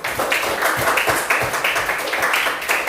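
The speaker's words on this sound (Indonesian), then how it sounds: "kasih tepuk tangan buat kelompok kaktus" A class applauds a student group after their presentation, a steady wash of many hands clapping close by, continuous and moderately loud throughout.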